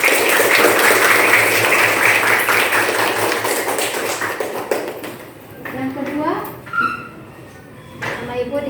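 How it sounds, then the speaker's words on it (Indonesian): Hand clapping from a classroom group, steady and dense for about five seconds, then thinning into scattered claps with voices talking over it. "Tepuk tangan"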